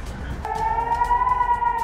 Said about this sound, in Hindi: सीज फायर टूटने के बाद इसराइली शहरों में युद्ध के सायरन बज रहे हैं।